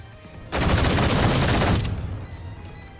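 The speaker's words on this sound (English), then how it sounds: "That gun sounds horrible." Burst of rapid gunfire from an early gun in a video game, about one and a half seconds of loud continuous shots, then a fading tail.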